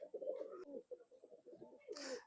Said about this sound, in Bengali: এবারে দেখেন এই কবুতরটা